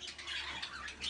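Budgerigars kept in a breeding setup chirp and chatter in a dense, continuous high twittering flock, moderately close and fairly faint.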